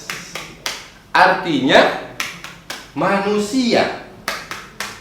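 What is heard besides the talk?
hands clapping along to the Surah An-Nas clapping song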